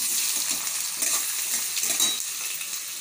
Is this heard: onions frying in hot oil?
yes